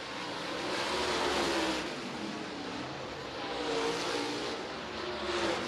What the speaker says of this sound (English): See the cars slip sliding around the racetrack here.